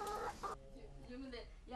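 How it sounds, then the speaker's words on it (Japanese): Backyard chickens kept for eggs clucking close by, a short burst of throaty clucks and squawks with a brief lull, while a person speaks quietly underneath. "卵の安全性について調べてみたいと思ったことをきっかけに鶏を飼うようにもなりました。"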